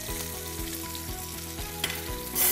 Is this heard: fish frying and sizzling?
yes